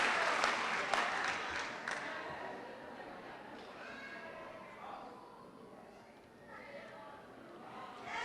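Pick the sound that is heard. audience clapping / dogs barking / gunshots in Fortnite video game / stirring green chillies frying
audience clapping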